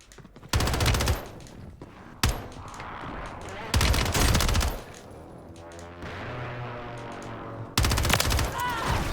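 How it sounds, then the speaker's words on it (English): Gunfire in Call of Duty Warzone on Rebirth Island, with several loud bursts of rapid automatic shots separated by short gaps and a brief single crack, close and dominant with faint talk between bursts. "Oh, getting shot at from somewhere."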